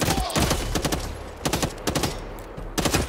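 Rapid volleys of gunfire from a semi-automatic weapon in a video game, sharp overlapping shots arriving in several clustered bursts with brief pauses between them, loud and close.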